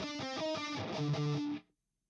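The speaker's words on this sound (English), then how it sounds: "demonstrate what a rat sounds like instead as a distortion pedal" An electric guitar plays a short chugging riff through a Rat distortion pedal, with thick, gritty, saturated chords that ring out and then stop abruptly.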